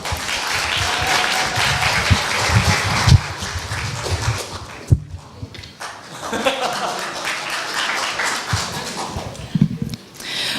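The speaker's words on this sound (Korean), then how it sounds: "박수 부탁드립니다." A school speech contest audience claps loudly and continuously, with a brief lull midway before the clapping picks back up.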